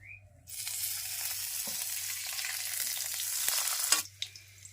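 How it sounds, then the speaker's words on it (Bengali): Garlic, dried chillies and ginger dropped into hot oil, which erupts into a loud, steady, close sizzle for about three and a half seconds before cutting off. "রসুনে আর শুকনো ঝালে আর আদায়ে একসঙ্গে তেলে ভাজো"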